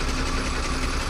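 A lorry engine idling on a road in Wayanad, a close, steady low rumble with a faint hum and no breaks or talk.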